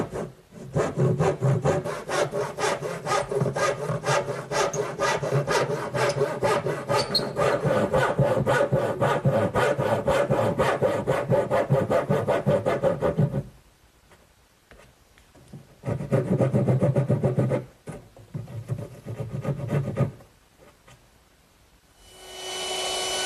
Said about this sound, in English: And to do that, I'm going to use my back saw.